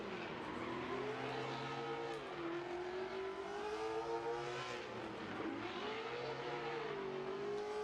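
A NASCAR-powered R5P7 V8 drag car at a speedway autofest revs hard, its pitch climbing and dipping through repeated throttle blips in a loud, sustained roar heard from a distance.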